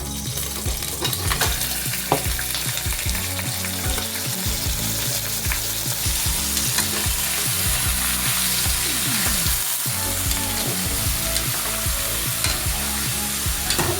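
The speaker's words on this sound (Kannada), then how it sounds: "ಎರಡು ನಿಮಿಷ ಈ ಥರ ಎಣ್ಣೆಯಲ್ಲಿ ಫ್ರೈ ಆಗಿದೆ" Pork fries in a little oil for Coorgi pork masala, giving a steady loud sizzle with repeated scraping and stirring of the pan throughout and no speech.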